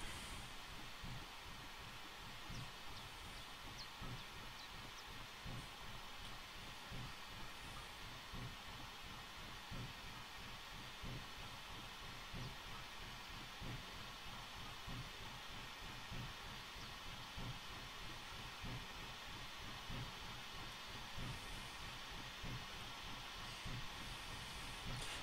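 Steady hiss and rhythmic rumble of an AT&N Consolidation #2 steam locomotive with wagons being dropped off on the Raquette Lake Railway in Train Simulator 2015, continuous and even throughout with no talk.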